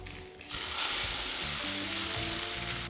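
An egg hits a very hot Saladmaster skillet turned down to a medium setting, and a loud, steady sizzle swells up and holds close by with no voices.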